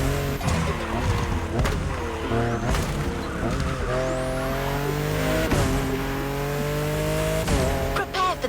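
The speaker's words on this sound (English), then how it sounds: "There's an absolute classic heading your way. A grail among collectors and Jim's greatest pride, the Mustang Boss 429." A Ford Mustang Boss 429 muscle car in The Crew Motorfest races by, its engine revving up and down through gear changes while tires squeal, loud and close, with rising and falling harmonic tones.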